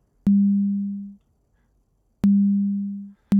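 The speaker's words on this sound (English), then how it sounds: "we can hear that it is just a basic sine wave" A pure, low sine tone from an FM drum synthesizer sounds twice, each starting with a click and fading smoothly over about a second, with a third hit starting at the end.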